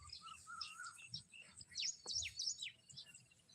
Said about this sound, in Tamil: அந்த குருவி சத்தம்